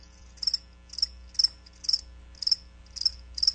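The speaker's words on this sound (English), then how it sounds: "That's right, crickets." Crickets chirp in a steady, evenly spaced series of about eight bright pulsed trills, clear and alone over a low hum, used as a sound effect in a radio advertisement during a hockey broadcast.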